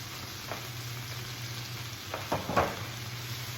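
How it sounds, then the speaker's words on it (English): Spinach and shrimp sizzle steadily in a frying pan while a utensil twists and stabs through the greens, giving a few soft knocks and scrapes over the constant frying hiss. "I'm just stirring this down, stabbing it, twist, stab, twist, stab, twist, stab, twist, over and over and over again"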